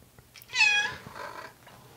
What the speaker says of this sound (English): My cat agrees with me.